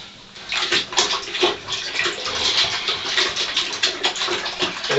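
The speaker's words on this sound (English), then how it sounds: "just kind of swish it around, just like the paddles in a washing machine" Leather hide being swished and squeezed by hand in a bucket of lukewarm soapy water, giving steady close sloshing and splashing with repeated watery surges, no voices.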